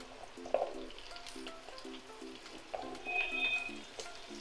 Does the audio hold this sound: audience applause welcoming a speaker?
no